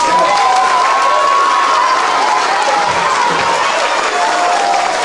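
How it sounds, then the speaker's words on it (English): Children in a classroom applaud and cheer together, a dense, steady wash of clapping with high shouts and whistle-like squeals running throughout, loud and close. "Clap for yourselves."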